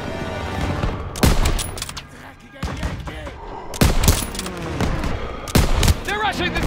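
Heavy World War II gunfire in the Call of Duty WW2 campaign, sharp loud shots and bursts of rifle and machine-gun fire repeating close by, with shouted voices over the battle.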